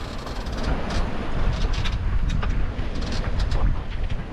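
Wind of about 20 knots buffets a sailing boat off Anglesey, a loud, continuous rushing roar with gusty rumble against the microphone and faint spray.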